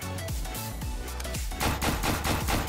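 Repeated shots from the video game Paint Warfare, a string of punchy booming reports at first, then a quicker, denser burst of fire near the end, with no voices.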